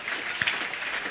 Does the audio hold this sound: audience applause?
yes